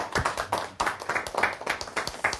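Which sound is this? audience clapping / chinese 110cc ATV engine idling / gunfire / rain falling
audience clapping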